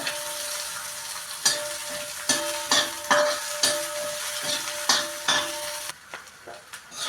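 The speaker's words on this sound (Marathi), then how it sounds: "कांदे ही छान ट्रान्सपरंट होईपर्यंत इथे भाजून घेणार आहे" Sliced onions frying for Khandeshi-style baingan bharit, a continuous close sizzle punctuated by repeated metallic clinks of a spatula stirring in the pan, with no talk.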